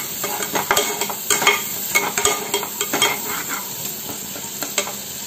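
Spices such as turmeric, cumin and chili powder being stirred and fried in a pan, with rapid repeated scraping strokes over a constant sizzle, close and fairly loud.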